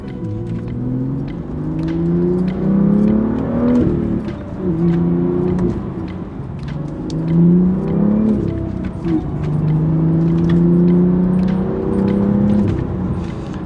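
A stock Long Beach Blue BMW M2 F87 with its N55 engine and manual gearbox rises and falls through repeated loud revs and upshifts, a buzzy straight-six drone heard from inside while driving, with no voices.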